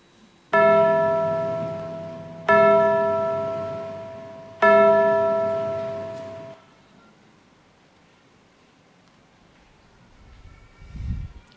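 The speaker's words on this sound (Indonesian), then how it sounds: "Lonceng." Church bell at GKI Cipinang Elok before a Sunday service, three loud, ringing strikes about two seconds apart, each with a long decaying hum, followed by quiet.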